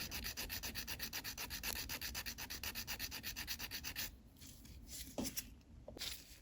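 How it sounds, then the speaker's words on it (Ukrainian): Steady, rhythmic rasping of a nail file scraping back and forth across an acrylic nail extension, close up, then a few slower, softer strokes with brief pauses. "Завожу трошечки власне, сам нігтик і ось так пиляю."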